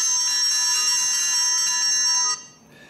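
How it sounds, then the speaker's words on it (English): A NOOIE Cam Pro security camera's piercing electronic alarm siren rings loudly and steadily for a couple of seconds, then cuts off abruptly into near silence. "You can actually send out an alarm."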